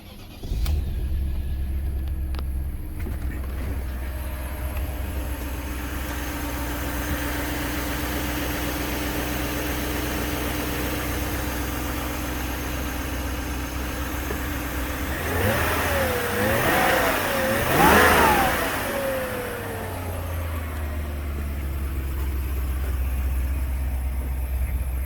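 A BMW E38 740i V8 cold-starts and idles steadily, then revs several times in quick rising and falling swells before settling back to a low idle, heard close with no talking.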